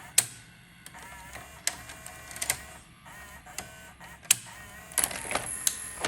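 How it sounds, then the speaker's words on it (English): An Emerson VCR968 VHS VCR ejects a tape with a run of mechanical clicks, ticks and whirring transport noise, close up and irregular, sharper clacks punctuating a low motor hum. "And then we'll go ahead and do the eject tape."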